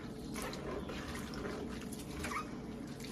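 Cabbage being rubbed and massaged together under water while making sauerkraut, giving a steady close wet sloshing and squelching with small drips, continuous and fairly quiet throughout.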